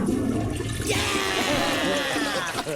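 A toilet flush sound effect: a loud rushing, swirling gush of water that starts abruptly and fills the rest of the stretch, over a low background murmur.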